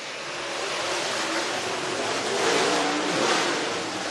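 Race cars on the Cherokee Speedway track in Gaffney, South Carolina, roar as they pick up speed on a green-flag restart, a broad, distant engine wash that swells slightly toward the end.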